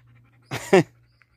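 A dog being brushed lets out a couple of short breathy pants close by, over a faint low steady hum, with quiet surroundings before and after.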